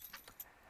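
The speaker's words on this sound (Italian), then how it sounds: "Ah, una chiave." A key is picked up in the horror game Paranoiac, giving a very brief, quiet metallic jingle of a few soft clinks.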